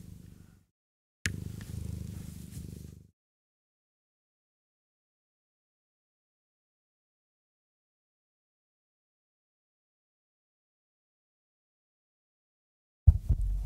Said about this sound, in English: You are hearing a cat purring.